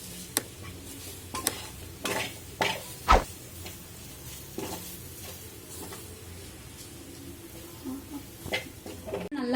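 Chana dal dry-roasts in a pan over low heat with a faint sizzle. Soft, scattered scrapes and clicks of stirring can be heard up close.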